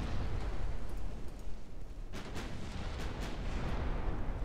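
Naval guns in Ultimate Admiral: Dreadnoughts rumble in a dense, distant roar of battleship fire, with a few sharper reports standing out midway through the steady, low booming.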